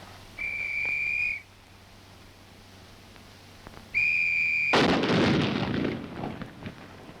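Rifle test firing at Aberdeen proving ground: two steady whistle tones, then a loud blast followed by a rumbling, decaying roar.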